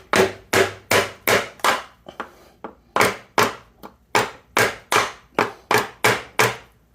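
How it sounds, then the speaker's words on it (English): A hammer strikes a casting on a front mount shifter install to break its seal, a series of sharp, loud, evenly spaced blows in two runs with a short pause and lighter taps between. "we're just going to take a hammer and just give her a little love tap"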